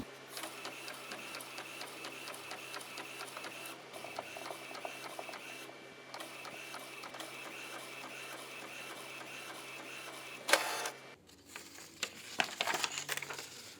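An inkjet printer loaded with sublimation ink runs a print job, its print head shuttling back and forth in a steady mechanical rhythm, ending with a louder clatter and paper-feed rattle.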